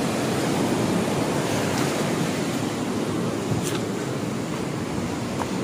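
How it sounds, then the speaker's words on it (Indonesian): Ocean surf on a southern beach roars in a steady, dense wash of breaking waves close by, loud and continuous with wind buffeting the microphone. "Ini ombak bisa sampai sini, kita duduknya di sini aja."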